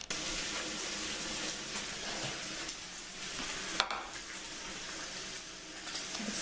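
Bacon frying in a pan, a steady close crackling sizzle with occasional scraping clinks, moderately quiet and without talk.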